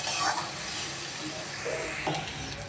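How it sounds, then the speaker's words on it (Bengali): Onions frying in a little oil in a pan while being stirred, a steady close hiss of sizzling throughout with faint scraping strokes. "আমি একদম অল্প তেলে ভাজছি, তা নাহলে পেঁয়াজটা পোড়া লেগে যেতে পারে"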